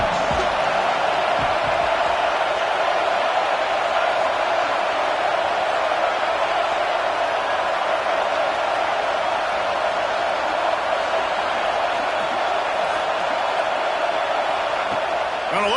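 A stadium crowd in a PS5 football video game keeps up a steady, loud, dense roar of cheering from start to finish, with some voice-like sound blended in.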